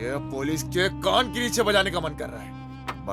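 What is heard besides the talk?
None of the usual background noises is heard.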